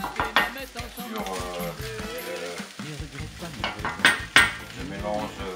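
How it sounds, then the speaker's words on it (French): Onions and salt cod for rougail are stirred in a pan, with a utensil scraping and clinking against the metal over a soft sizzle, while background music plays throughout. "je mélange régulièrement pour éviter que ça brûle"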